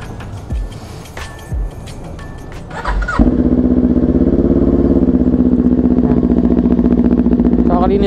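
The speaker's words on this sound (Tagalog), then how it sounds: "Painitin na muna natin ang ating motor." Kawasaki Ninja 400 motorcycle with an SC Project exhaust, heard at first with a few clanks and light handling noises, then fired up into a loud, steady idle as it warms up, close to the microphone.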